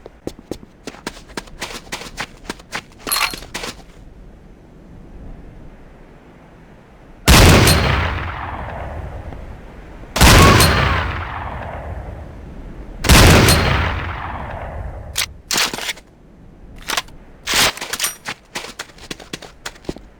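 Gunfire on a firing range in the game Command & Conquer Renegade: three loud, sharp shots spaced a few seconds apart, each with a decaying tail, among quieter clicks and short bursts.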